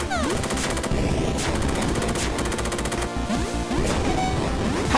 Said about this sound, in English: What is the timing on the hitbox for that explosion?